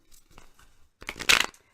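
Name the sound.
shuffling soul coaching cards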